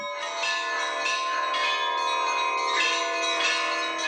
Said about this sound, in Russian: Это репетиция специального пасхального перезвона. В колокола бьют 10 учеников